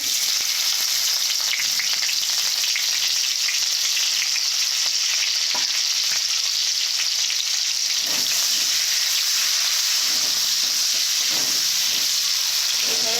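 Onions frying in hot white oil in a pan while meat curry is being cooked, a steady, loud, close sizzle that hisses without a break from start to finish, with faint stirring scrapes and no talk.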